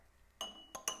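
A spoon clinks sharply against a glass three times in quick succession, bright ringing taps with a brief pause before the last two, no voices.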